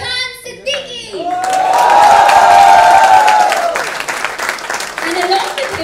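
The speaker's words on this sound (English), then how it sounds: "a huge round of applause" An audience at a fan awards event breaks into applause with cheering, the clapping swelling to a loud peak and then easing off; a loud amplified voice speaks over the crowd at the start and again near the end.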